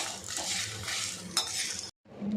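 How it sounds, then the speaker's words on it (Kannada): Six to eight dry red chillies roasting and being stirred in a pan for Mangalore-style cucumber sambar: a metal utensil clinks and scrapes steadily against the pan, close and fairly loud, with a brief break near the end. "ಒಣಮೆಣಸಿನ್ಕಾಯಿ 6ರಿಂದ 8 ಅಷ್ಟನ್ನು ಹಾಕಿ ಎಲ್ಲ ಮಿಶ್ರಣ ಮಾಡಿ ಚೆನ್ನಾಗಿ ಹುರಿಬೇಕು"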